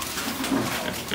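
Farm pigs grunting, a short low snuffling grunt from a pen, close to the microphone with a steady background hum.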